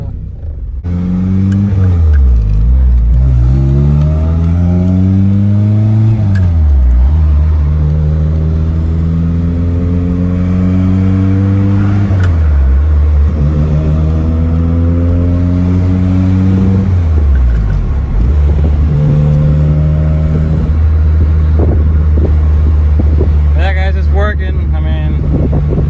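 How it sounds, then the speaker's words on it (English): A Honda Civic EP3 accelerates and cruises down a street, engine pitch climbing through several gears with shifts in between, loud and close from inside the car with wind noise. "I'm just cruising it down the street."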